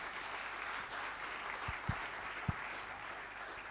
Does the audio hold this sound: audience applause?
yes